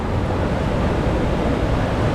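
Sea waves wash onto the beach at Galveston, Texas, in February: a steady, loud, unbroken rush of surf and wind noise with no voices.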